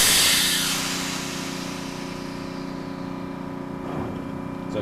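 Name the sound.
ship engine running ahead in gear, pneumatic control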